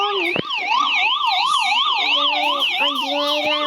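A police car siren wails loudly and close, sweeping up and down in a steady repeating pattern, alone with no talk over it.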